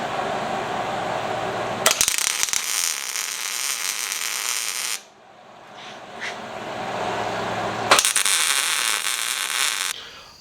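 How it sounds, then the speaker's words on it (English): Steel parts for a 2x72 belt grinder being tack and stitch welded, with two long loud bursts of crackling, buzzing arc broken by a short quiet pause, no talking. "I'm going to tack them, and then I'm going to do some stitch welds to get everything connected"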